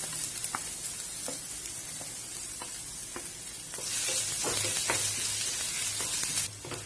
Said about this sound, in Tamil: இந்த பூண்டு, இஞ்சி, பச்சை மிளகாய் எல்லாம் ஒரு நிமிஷம் வதக்கி விடுங்க